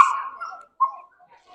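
A dog in training close by gives a sharp whimpering yelp that fades, then a shorter yip after a brief pause, with no voices.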